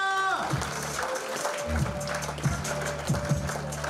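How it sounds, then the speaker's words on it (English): Audience applause at a live stand-up comedy show, a steady wash of clapping from a crowd that carries on throughout and rises in a few louder bursts. "let's keep that applause going"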